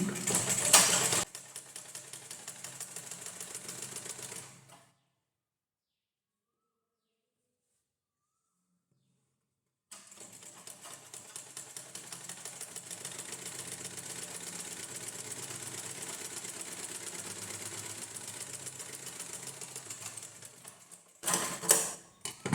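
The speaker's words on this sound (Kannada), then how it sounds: "ಇವಾಗ ನೋಡಿ ನಾನು ಸ್ಟಿಚ್ ಹಾಕ್ತಿದ್ದೀನಿ" Sewing machine stitching a blouse lining, running in a fast rattling stitch for several seconds, falling silent for a few seconds, then running steadily again for a longer stretch.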